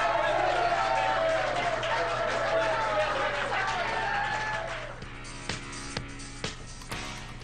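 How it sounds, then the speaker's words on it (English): Golf club members applaud at a press conference, a broad sustained clapping wash that fades after about five seconds, leaving a few isolated claps and faint room noise. "the applause you heard in the background was from some of the members of his golf club who were allowed to come in to watch the press conference"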